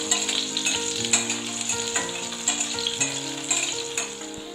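Small onions sauté in a pan for tomato kulambu with a steady, close sizzle and occasional stirring scrapes, while soft music plays underneath.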